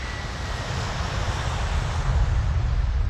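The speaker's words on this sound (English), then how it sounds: "The flight was also designed to show Vice Admiral Maurizio Gemignani how information is collected in the airplane's systems." Broadband engine roar of a maritime patrol airplane in flight over the Mediterranean Sea, a steady, loud drone with low rumble and wind-like rush throughout, no voices.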